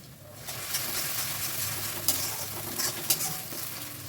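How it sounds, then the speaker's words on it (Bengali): Grated onion and spice paste frying in a pan while being stirred, giving a continuous close sizzle with occasional scrapes and clinks of the utensil against the pan, no voices. "এবার দিয়ে দিলাম গ্রেটেড পেঁয়াজটা পেঁয়াজটাকেও দিয়ে ভালো করে মশলাটা কষিয়ে নিচ্ছি"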